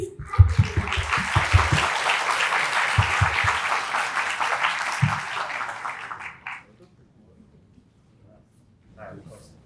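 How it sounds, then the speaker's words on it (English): An audience at a formal opening ceremony claps warmly and steadily for a guest coming to the stage, with a few voices at the start; the applause fades after about six seconds into near silence and a brief faint sound. "Please come to the stage and please clap"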